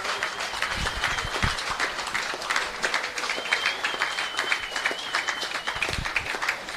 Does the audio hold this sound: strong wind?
no